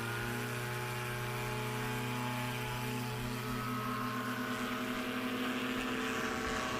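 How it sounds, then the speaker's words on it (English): A Chinook airplane running its engine during takeoff practice at an airport, heard as a steady, droning engine tone with strong sustained harmonics and a slight rise in intensity toward the end, with no voices. "let's watch Dan Reynolds now in the Chinook, the other competitor against Hal in the Unlimited class this weekend"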